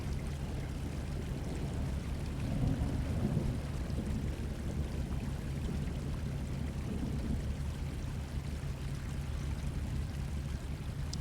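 A ship-simulator storm with steady, dense rain pouring and a low continuous rumble of thunder and wind, a broad constant wash of sound with no talking.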